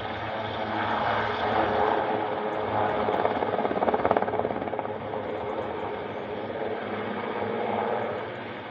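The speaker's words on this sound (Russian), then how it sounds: "Прилетел вертолет." A helicopter arrives over a field in Switzerland where parachutists are landing. Its engine and rotors drone steadily and fairly close, swelling in the middle before easing off slightly.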